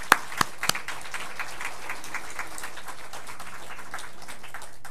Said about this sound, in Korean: 박수로 환영하겠어요